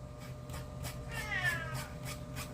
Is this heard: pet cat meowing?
yes